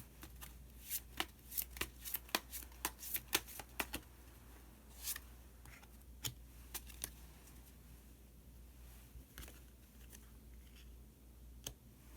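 Tarot cards are shuffled by hand in quiet, rapid bursts of crisp riffling and flicking, busiest early and then sparser, close and soft with no talk.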